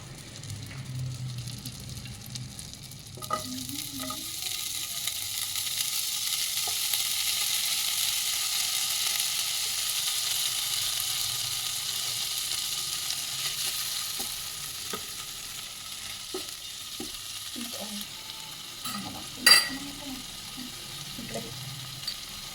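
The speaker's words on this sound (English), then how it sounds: "So we're going to saute the remaining broccoli." Broccoli pieces sauté in butter in a pan for a cream of broccoli soup, giving a steady soft sizzle with occasional clicks and scrapes of stirring.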